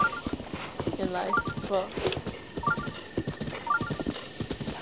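Rhythmic clip-clop of a horse's hooves in The Legend of Zelda: Breath of the Wild, steady and close throughout, with a horse whinny and a person talking over it.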